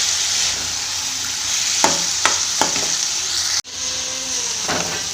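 Spinach and boiled potatoes fry in a pan with a loud, steady sizzle, broken by a few sharp scrapes of a spatula and a brief dropout before the sizzling resumes.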